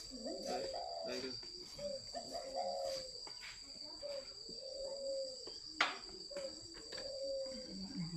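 Spotted doves at a bird breeder's home give repeated soft, throaty coos in rhythmic phrases, close and clear over a steady insect-like whine, with a faint voice in the background.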